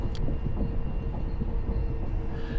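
A Northern Rail train runs along the line from Manchester toward Blackpool near Preston, heard from inside as a loud, steady low rumble with rhythmic rattling and a brief high squeal near the start.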